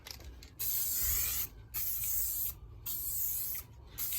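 Aerosol spray can misting a light coat onto a car headlight, several short hissing bursts of about a second each separated by brief pauses, close and fairly quiet.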